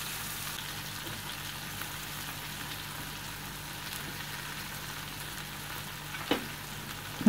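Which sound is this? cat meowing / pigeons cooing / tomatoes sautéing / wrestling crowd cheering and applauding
tomatoes sautéing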